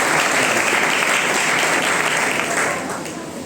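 A church congregation at a Sunday revival service in Karachi breaks into loud, sustained applause that fills the room, with dense clapping throughout before it eases slightly toward the end.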